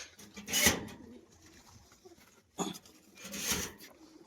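Bali powder Machranga display pigeons in flight give a few sharp, brief wing-clap bursts, spaced irregularly over a few seconds against a quiet, faintly noisy background.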